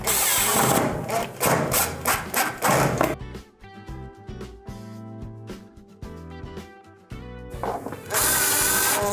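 A power driver tightens screws during repair of an oven's control board: loud bursts of whirring and ratcheting start and end the stretch, with quieter clicks and mechanical tones in between, close by and with no talking.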